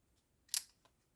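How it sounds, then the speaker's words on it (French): A single crisp snip of small precision scissors trimming a shabby-style decorated Easter egg, sharp and close, with a faint second click just after in a quiet room. "je prends les ciseaux de précision"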